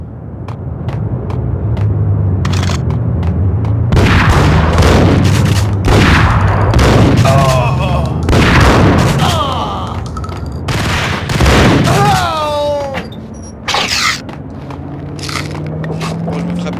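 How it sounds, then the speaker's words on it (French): In the shooter game Max Payne, a grenade blast and bursts of gunfire erupt as a dense, loud run of booms and sharp shots, with some quieter pauses between volleys. "lui, il va jeter une grenade."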